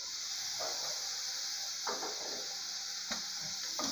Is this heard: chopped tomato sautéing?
yes